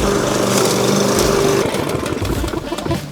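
A lawn mower running steadily up close, its engine a loud constant drone with a rough, buzzing texture that shifts slightly in pitch partway through.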